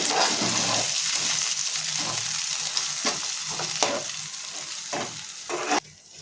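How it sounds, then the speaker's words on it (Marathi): Ground corn paste sautéing in a hot pan for corn paratha, a steady close sizzle with occasional scraping stirs, no talking. "त्याची पेस्ट काढून घेऊयात आपल्याला एक पाच मिनटं परतून घ्यायचं आहे"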